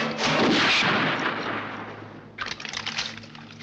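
A gunshot in the Dracula: Prince of Darkness film is a loud, booming blast that decays into a rumbling tail, followed by a softer crackling burst.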